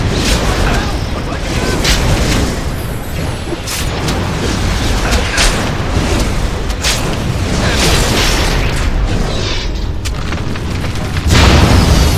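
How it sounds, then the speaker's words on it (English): A loud, sustained explosive roar rumbles through a Dragon Age: Origins battle, with dense booming blasts filling the whole stretch without pause. "I'll try to make something explode!"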